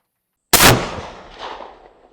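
A single loud, close shot from an Armalite AR-50 .50 BMG rifle at a 200-yard range: a sharp blast followed by a long, decaying rumble and echo with no talking.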